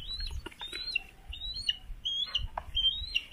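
Young birds about to be bathed chirp indoors, a series of high, thin rising peeps repeated every half second or so, fairly close and alone, with light handling noise beneath.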